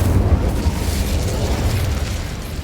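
Incendio fire spell cast in Hogwarts Legacy, a loud, sustained roaring whoosh of flame with heavy low rumble, steady from start to finish.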